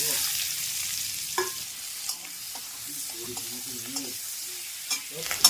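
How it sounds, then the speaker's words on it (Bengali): Chopped onions with whole cumin frying in oil in a wok, a soft steady sizzle with repeated scraping and clattering of a spatula stirring, no voices. "এবারে দিয়ে দেব কেটে রাখা পেঁয়াজ"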